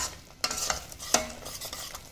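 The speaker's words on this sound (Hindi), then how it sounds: "इनको सबको अच्छे से मिक्स करेंगे" Spice masala with Kashmiri red chili powder being stirred in a pan for a bottle gourd kofta curry, a few quick scraping strokes over a soft sizzle; close and brief, no voices.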